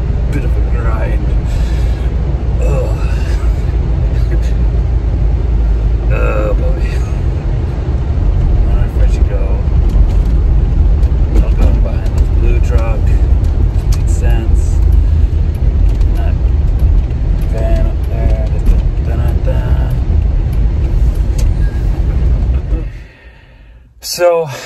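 Steady road traffic roars from inside a moving vehicle, a loud continuous low rumble with passing swells, and a voice talks over it before the sound cuts away near the end.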